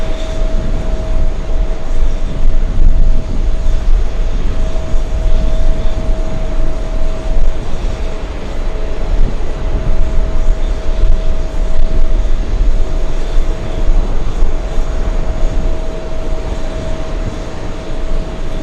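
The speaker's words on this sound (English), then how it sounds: "that's an A321neo about to line up, flying to Orlando, Florida" Airbus A321neo airliner taxiing to line up for departure at JFK airport, a steady broadband engine rumble with a constant whine, moderately loud and continuous without talk.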